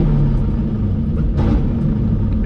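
An engine running on Holley EFI stumbles briefly under acceleration and then smooths out, a loud close rumbling idle with a short roughness and rising surge near the middle.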